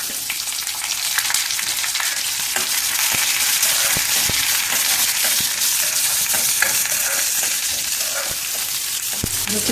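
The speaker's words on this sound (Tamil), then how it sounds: "வெங்காயம் பொடியை நறுக்கி வச்சுருக்கேன். போட்டுக்கிறேன்." Chopped onions fry in oil with curry leaves for a jackfruit seed masala curry, with a steady, loud hiss and occasional clicks of stirring. Nobody speaks.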